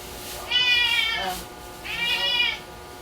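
Pet cats meowing before feeding, two distinct drawn-out meows about a second apart, close and clear over quiet room background.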